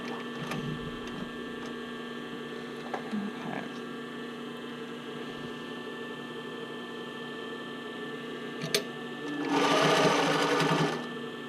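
A domestic sewing machine stitching a bra cup overlay runs in a short loud burst near the end, after a steady background hum with a few faint clicks.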